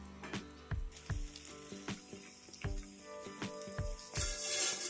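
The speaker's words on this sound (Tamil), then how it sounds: "காய் ஓரளவுக்கு நல்லா வதங்கி வந்துட்டு இருக்குதுங்க" Vegetables sauté in a pan for a home lunch, with a regular series of spatula scrapes and knocks over a soft sizzle, close up and without speech.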